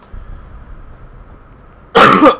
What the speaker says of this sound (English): That cough is so annoying.